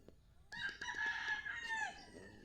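A single gamecock rooster crows once, loud and drawn out, close by on a farm, with faint background noise.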